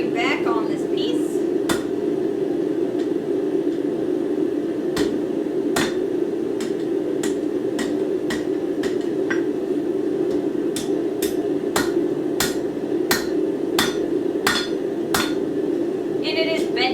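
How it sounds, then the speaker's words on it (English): A forged three-prong fork is hammered back, giving about fifteen sharp, ringing metal strikes at a fairly steady pace over a constant low hum, loud and close. "We're gonna do a little bit of hammering back on this piece."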